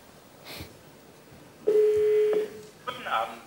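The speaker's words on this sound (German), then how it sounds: "Jetzt höre ich das Freizeichen" A telephone ringing tone on an outgoing call to a radio station listener line, a clear, steady electronic tone that sounds after faint clicks, with someone talking over parts of it.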